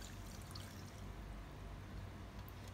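Milk poured into waffle batter in a bowl, a steady close pouring trickle running evenly for a few seconds with no talk over it.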